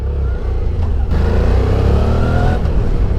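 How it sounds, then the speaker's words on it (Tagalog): An SVT 650X motorcycle engine revs steadily and loudly up close, a deep continuous growl with a slight dip before climbing again, no voices. "Gusto ko naririnig yung engine niya."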